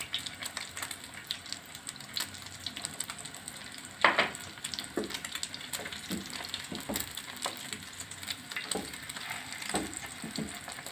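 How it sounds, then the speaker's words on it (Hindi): Potato cutlets (tikki) frying in a pan over moderate flame, a steady soft sizzle with scattered crackles and one sharper spatter pop, no talking. "एक से 2 मिनट हम एक साइड से इसको फ्राई करेंगे, फिर इसको उल्टाएंगे।"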